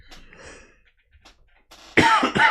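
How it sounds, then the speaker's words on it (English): A person has a coughing fit: a few faint coughs at first, then two loud, harsh close-up coughs in quick succession near the end. "And I apologize for coughs."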